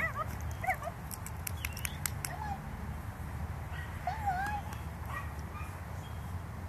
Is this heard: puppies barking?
yes